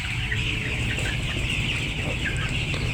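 A flock of farm chickens clucks continuously nearby while drinking water mixed with Ranikhet vaccine, a dense overlapping chatter with no voices.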